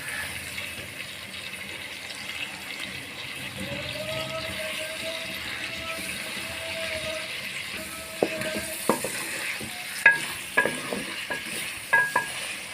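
Potatoes and meat frying in a pan for aloo gosht, a low, soft sizzle with gentle stirring, then several sharper clinks and scrapes near the end.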